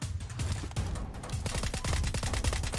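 Rapid gunfire in a shooting video game, dense bursts of automatic shots cracking in quick succession with almost no gaps, loud and close throughout.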